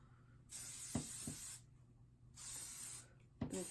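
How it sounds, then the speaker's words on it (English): Two separate bursts of aerosol hairspray, each about a second long, with a few soft handling clicks between them. "spray everything with some hairspray"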